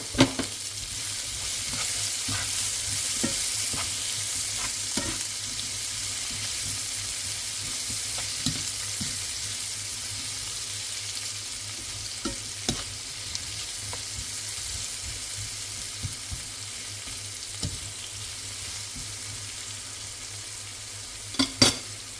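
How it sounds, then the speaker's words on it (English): One large onion fries in a pan for a one-pot chicken and rice dish, giving a soft, steady sizzle. Occasional light scrapes and clicks from stirring break in at intervals, and no one speaks. "In the same pan, I'm going to bring my onion first, the one large onion."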